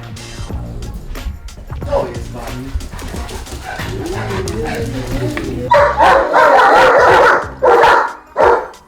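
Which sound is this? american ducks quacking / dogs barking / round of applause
dogs barking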